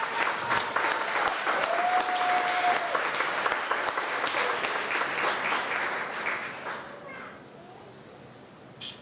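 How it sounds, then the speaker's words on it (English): An indoor audience at a city address applauds firefighters, giving sustained, dense clapping that holds steady for several seconds before tapering off near the end. "Round of applause for all our firefighters."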